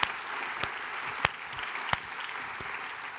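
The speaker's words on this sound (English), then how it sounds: "So one more round of applause to our delegates from yesterday." Audience applause at a youth summit session fills the room, a steady wash of clapping with a few sharper individual claps standing out, moderately distant.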